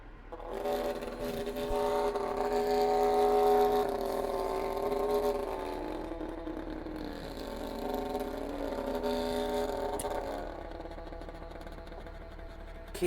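An old Hornby Dublo tank goods model locomotive runs on track, a steady whirring motor hum with wavering pitch, fairly close and continuous, with no voices.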